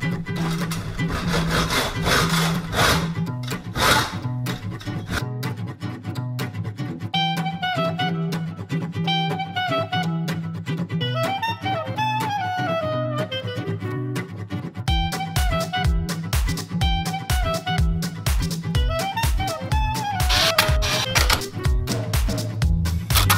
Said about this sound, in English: Now I have to cut all these bolts off with a handsaw.